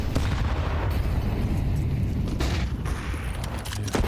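A grenade detonates in Counter-Strike during a Furia versus Virtus.pro match at the BLAST Austin Major, a loud booming blast with rumbling gunfire-like crackle that carries through the whole few seconds.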